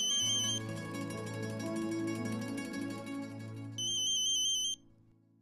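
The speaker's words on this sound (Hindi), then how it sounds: "आपका फोन बज रहा है।" A ringtone from a phone in a Hindi TV serial scene plays as a loud repeating electronic trill with a musical backing, then cuts off abruptly near the end.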